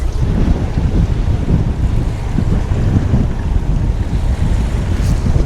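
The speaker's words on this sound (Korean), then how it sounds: "바람이 좀 많이 세게 불긴 합니다." Strong wind batters a fishing boat at sea off Yeongheungdo during spring cuttlefish fishing, a loud, constant roaring rumble with buffeting gusts against the microphone and no talking.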